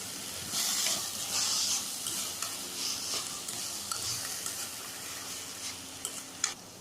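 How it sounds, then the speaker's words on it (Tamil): Masala with salt being stir-fried in a pan for Chettinadu masala dosa filling: a steady close sizzle with scraping stirs and occasional clinks of the spoon, continuous throughout with no talking. "உப்பு சேர்த்து திருப்பியும் நல்லா வதக்கணும்"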